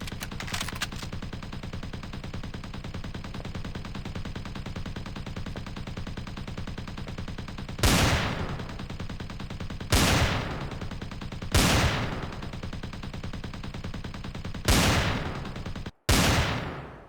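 Five heavy gunshots boom in the video game Empyrion Reforged Eden 2, spaced irregularly over a constant droning background hum, the last shot cut off abruptly.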